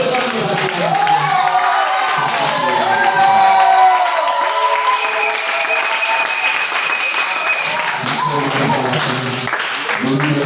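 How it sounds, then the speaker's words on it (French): A church congregation at a worship service in Mboukou applauds and cheers loudly and continuously, with shouts and voices mixed into the sustained clapping. "reçois nos acclamations"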